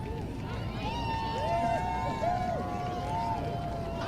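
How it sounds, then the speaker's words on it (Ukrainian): Crowd gathered in a forest clearing at the peak of a solar eclipse, a steady babble of voices with rising exclamations and calls, several whoops standing out over continuous murmur. "Отже, ми у максимальній фазі затемнення чуєте, як люди реагують"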